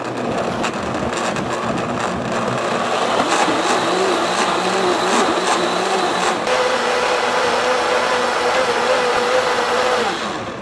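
Blender grinding chiles for shrimp soup, a loud steady motor whir that runs without a break for about ten seconds and then winds down at the end.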